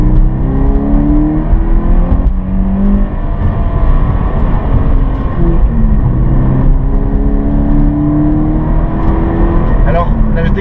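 A Toyota GT86 coupe's naturally aspirated four-cylinder engine revs close up, rising and falling in repeated loud sweeps with someone speaking over it.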